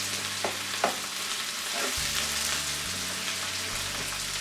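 Onions sautéing in a pan for chana masala, a steady close sizzle with a few scraping stirs and a low hum underneath, no talk.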